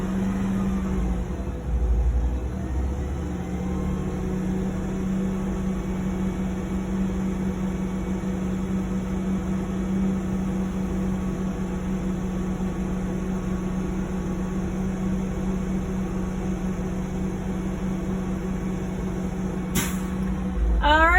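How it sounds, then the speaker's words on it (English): A truck's air brake compressor runs up to governor cutoff over a steady idling diesel engine, and a short sharp hiss of released air bursts out right at the end. "That sound means that the governor has kicked in and we are at 120."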